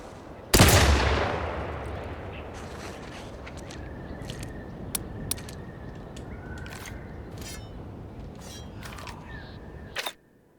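Gunfire in the video game The Outer Worlds 2: one loud shot opens with a decaying boom, followed by several sharp, fainter clicks and a closing crack over a steady game ambience, with no talking.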